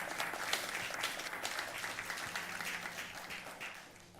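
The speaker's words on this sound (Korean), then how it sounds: "우리 박수로 한번 환영하는 시간 갖도록 하겠습니다" Church congregation applauding to welcome guests during a Sunday worship service, a steady dense wash of clapping from many hands that holds throughout and tapers slightly at the end.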